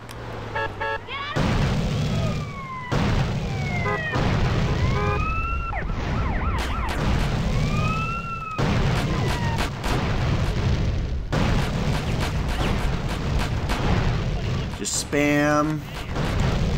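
Repeated explosions in Grand Theft Auto: San Andreas boom loudly over a steady wail of police sirens, with someone talking over the din throughout.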